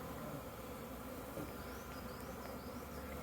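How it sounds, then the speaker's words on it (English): Honeybees swarming inside a beehive, a dense, steady buzzing drone at close range with individual wingbeats weaving in and out, no talking. "There's a very loud buzzing noise."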